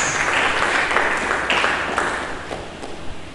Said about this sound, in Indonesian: Mari berikan tepuk tangan bagi Yesus Kristus.